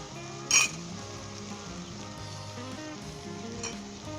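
Egg fried rice ingredients fry in a pan, a faint steady sizzle with a sharp utensil clink near the start and another light knock later, no voices.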